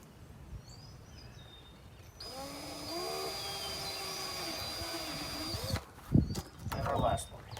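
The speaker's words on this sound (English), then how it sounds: "we're going to drill the other piece of plexiglass as well" A power drill bores through plexiglass for a bird feeder project, its whining motor holding a steady pitch for about three and a half seconds before cutting off, with faint birdsong and soft handling noises around it.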